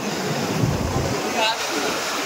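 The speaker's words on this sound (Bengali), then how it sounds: "এবার না স্রোতটা সত্যি খুবই উত্তাল হচ্ছে" Rough sea waves surge at Digha beach, a loud, continuous close wash of surf mixed with wind buffeting the microphone, a brief faint tonal sound rising briefly in the middle.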